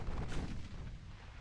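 Heavy naval gunfire from a warship engagement in the game Ultimate Admiral Dreadnoughts, a loud, deep boom that rolls into a long rumbling decay, close and alone.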